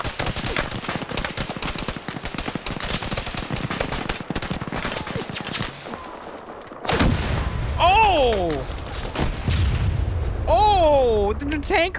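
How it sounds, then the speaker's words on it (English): In a video game PvP match, rapid gunfire crackles and heavy booms ring out, with a loud tank round among them; voices talk over the later shots. "I think the tank actually hit him. Because that sounded like the tank."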